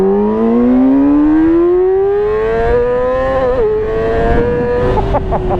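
A Yamaha R6 four-cylinder sport bike screams as its engine revs steadily upward into a high, sustained whine, dips briefly, then climbs again with sharp throttle blips near the end, loud and close.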